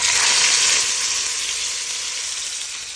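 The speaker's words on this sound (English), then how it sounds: "we're just gonna pick up the oxtail limb and sear them off" Pieces of oxtail searing in hot oil for a Jamaican stew, a loud, dense hiss of sizzling fat that starts strong and settles into a steady frying sound.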